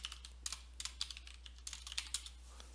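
Quick keystrokes clack on a computer keyboard during Microsoft Excel work, a brisk irregular run of close, crisp taps over a low steady hum.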